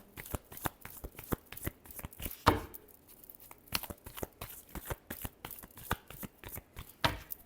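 Tarot cards being shuffled by hand in a quick series of crisp riffling flicks and taps, with one louder burst partway through, close and clear with no talking.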